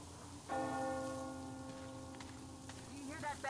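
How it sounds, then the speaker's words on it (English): A single church bell strikes once in a Metro Exodus game scene, a clear ringing tone that hangs and slowly decays under quiet ambient rain, with a faint voice near the end. "Do you hear that bell?"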